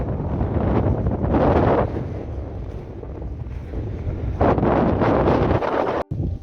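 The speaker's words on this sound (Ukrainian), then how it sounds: "Але вітер сильний" Strong mountain valley gusts of wind buffet the microphone in loud roaring bursts, easing between gusts.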